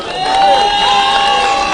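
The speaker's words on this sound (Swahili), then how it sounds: "Pigeni jameni shangwe za Yesu kwa mkutano huu." A large crowd at an outdoor church gathering cheers and shouts in a sustained, loud swell of voices, with high whoops and ululation riding over the roar for the whole short stretch.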